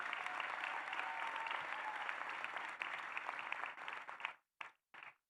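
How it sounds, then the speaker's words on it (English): Applause from the crowd at a law school commencement, steady and close for about four seconds, then breaking off into a few short bursts of clapping before stopping. "So a big round of applause to everyone here today"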